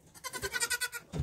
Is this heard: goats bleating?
yes